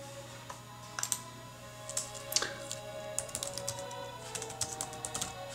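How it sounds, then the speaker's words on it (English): Commands typed on a computer keyboard: irregular bursts of crisp key clicks, some quicker runs and a few louder taps, close up over a low steady hum. "you can type in commands to the computer"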